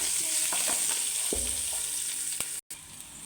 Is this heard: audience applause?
no